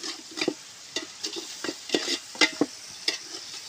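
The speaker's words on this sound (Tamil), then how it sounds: "தக்காளி இருக்கிறதே தெரியாத அளவுக்கு நல்லா வதக்கணும்." Tomatoes and mint sautéing in a pan for chicken biryani, heard as soft crackling sizzle broken by repeated scraping stirs at an uneven rhythm, close and fairly quiet.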